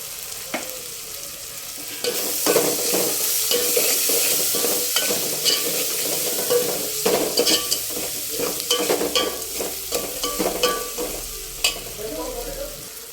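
Turmeric is stirred into food frying in a pan for a spicy chicken pulao, with a steady sizzle and close, irregular scraping of a spoon against the pan.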